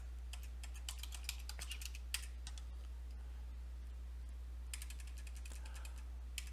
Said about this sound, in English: I'm going to just hit return